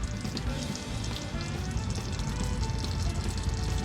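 Engine oil pouring steadily out of the oil pan of a Ford 7.3 F-250 Super Duty, a continuous close splashing gush with no pause across the whole stretch.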